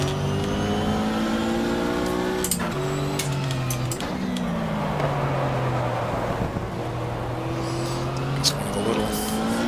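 A Porsche race car slides across dewy grass in GTR2 at the 1995 Daytona 24 Hour, its engine droning steadily with pitch shifts and clicks while someone talks over it.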